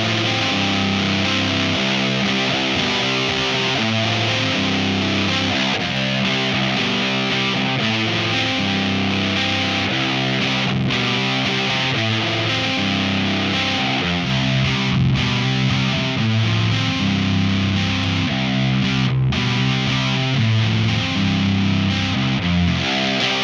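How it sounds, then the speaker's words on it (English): An electric guitar played through a Pro Co RAT distortion pedal, chugging doom metal riffs and sustained chords with a thick, gritty tone, loud and unaccompanied by voices. "this video about the Proco rat distortion"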